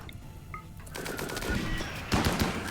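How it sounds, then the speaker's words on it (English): Gunfire in RimWorld crackles as a volley from several colonists firing together, rapid popping shots building after a quiet start and peaking in a louder burst near the end. "Operator Chan, there's a bad person here that I'm gonna need all of these guys to shoot at the same time"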